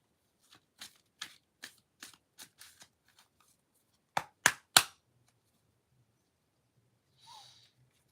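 Tarot cards are shuffled by hand, making a quick run of about eight crisp riffling slaps, then a pause and three louder snaps close together. A soft rustle follows near the end, with no talking.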